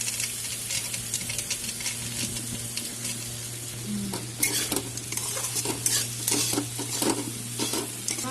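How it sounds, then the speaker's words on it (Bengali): Carrots, beans, green chillies, ginger, raisins and peanuts frying together in a pan for Bengali fried rice: a continuous close sizzle broken by frequent spatula scrapes and metallic knocks against the pan. "সব কিছু মোটামুটি ভাজা হয়ে গেছে"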